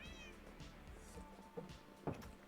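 A pretty cat in a video game meows a couple of times, short clear calls over steady game background sound and music.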